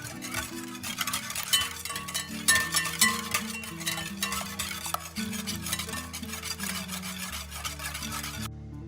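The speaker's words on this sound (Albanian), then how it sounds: "E rëndësishme është që vaji të përzihet mirë me vezët dhe" Oil being mixed with eggs and sugar for a cake batter, a continuous wet scraping and stirring against a bowl, close and steady, with faint music underneath and no talking.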